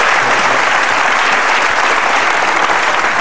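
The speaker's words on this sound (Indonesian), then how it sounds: "sama tepuk tangan dong Mas Ahmad." Studio audience of an Indonesian television talk show applauds loudly and evenly, a dense continuous wash of clapping with no talk over it.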